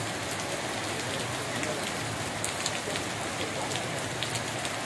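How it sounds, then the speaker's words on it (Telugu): Heavy rain pours down on the town of Kadiri, an even, dense hiss of drops striking surfaces close by that holds steady throughout with no voices. "కదిరి పట్టణంలో భారీ వర్షాలు కురుస్తున్నాయి"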